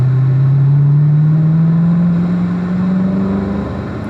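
A Corvette engine drones loud and steady around a race track, its tone climbing smoothly as the car accelerates down a straight, then easing slightly near the end with continuous road and wind roar.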